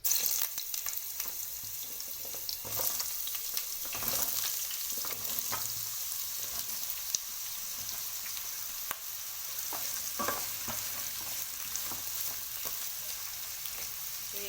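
Bottle gourd pieces frying in hot oil for a curry: a constant crackling sizzle with scattered sharper pops and occasional stirring scrapes, close and steady, with no voices.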